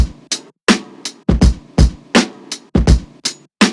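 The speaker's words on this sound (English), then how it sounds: "So the kick, the snare, and the break sound like this." Punchy layered drum break with hard kicks and cracking snares in a steady, driving rhythm, loud and dry with short gaps between hits.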